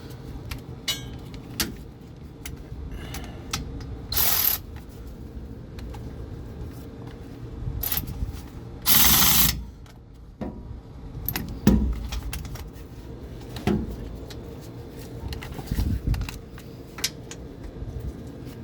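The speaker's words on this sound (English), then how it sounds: "Now we'll take the speed sensor bolt out with a Milwaukee" A Milwaukee power ratchet takes out a speed sensor bolt on a Ford truck differential, giving a few short loud whirring bursts between quieter metallic clinks and tool handling.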